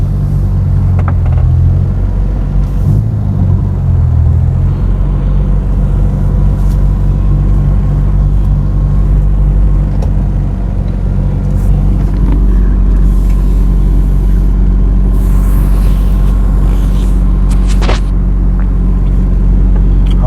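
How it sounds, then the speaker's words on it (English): Steady road traffic on a busy road at Spur Tree in Manchester, Jamaica, with cars and trucks passing under a continuous low engine rumble, some vehicles nearer and louder, no talk. "Having a lot of traffic today on the road."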